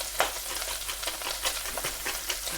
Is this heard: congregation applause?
no